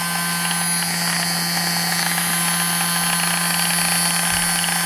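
A homemade paint shaker driven by a quarter-inch drill runs with a constant high-pitched whine and a steady mechanical hum, nearby and unchanging throughout.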